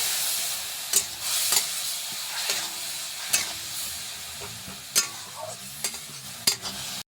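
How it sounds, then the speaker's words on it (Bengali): Mixed spices with a splash of water fry in a pan for a mushroom dish, a steady hiss and sizzle broken by repeated sharp scrapes of a spoon stirring against the metal. "মিক্স মশলা দিয়ে এখানে লাড়াচাড়া করে মশলাটাকে ভাজে নিব।"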